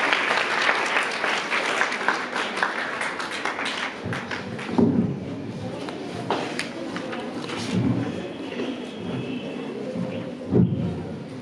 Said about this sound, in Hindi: 5 सही, तालियां बजाइए।